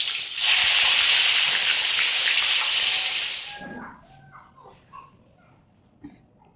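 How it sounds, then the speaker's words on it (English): Vegan kikiam rolls deep frying whole in hot oil, a loud, dense sizzle that runs for several seconds before cutting off, leaving faint clinks and small kitchen sounds. "One way is to just go ahead and deep fry them whole like this"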